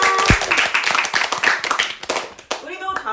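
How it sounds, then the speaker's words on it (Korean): A small group claps together after a book talk at a reading gathering, short dense patter with a voice calling out over it near the start and talk resuming toward the end. "텃밭지기님께 다시 한번 큰 박수"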